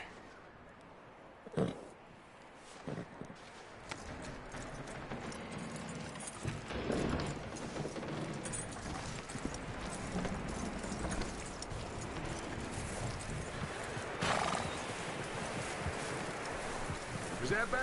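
A horse's hooves clip-clop steadily in the open-world western game Red Dead Redemption 2, amid soft rustling ambience and occasional sharp knocks.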